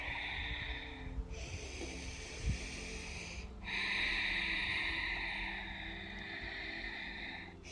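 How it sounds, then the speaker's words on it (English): Slow, deep breathing during a yoga flow, heard as long, quiet, airy inhales and exhales with a faint snort-like catch partway through. The breaths are close and soft, with no talking. "Just keep the breath nice and deep."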